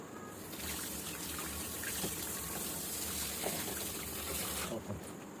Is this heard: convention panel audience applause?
no